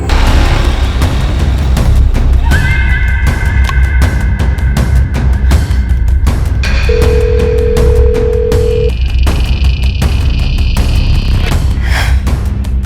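A phone call rings out unanswered, tonal ringing and dial-like beeps sounding over loud dramatic background music with booming hits, the tones coming in several short bursts.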